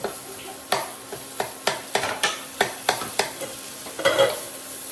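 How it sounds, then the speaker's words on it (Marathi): Peas being stirred into paneer masala in a pan, with a dozen regular scraping strokes of a spoon against the pan over a soft sizzle, close and clear with no talking. "आता मिक्स केले मटर"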